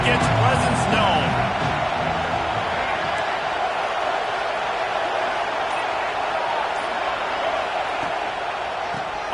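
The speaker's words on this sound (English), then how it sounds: "This crowd ready to make its presence known." Steady roar of a college football video game stadium crowd, a loud continuous wash of cheering with some louder bursts near the start, running under commentary throughout.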